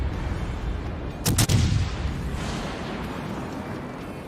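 Warship guns firing in World of Warships, a sharp double boom of a salvo at mid-distance, followed by a long rumbling roar over steady background noise.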